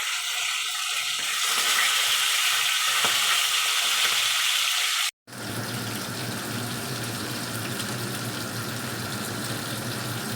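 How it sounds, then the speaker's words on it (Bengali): Pomfret fish frying in a pan after being flipped to cook the second side, a steady broadband crackle that drops out for a moment mid-way, then resumes as a fuller, lower sizzle with no one talking. "মাছটা ভেজে নেওয়া হলো।"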